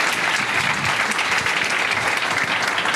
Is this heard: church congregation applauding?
yes